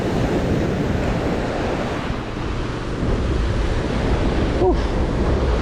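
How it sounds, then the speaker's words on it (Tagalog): Small ocean waves wash steadily against the shore near a terrace, a continuous broadband surf roar mixed with wind buffeting the microphone, with no talking. "So maliit ang alon ngayon."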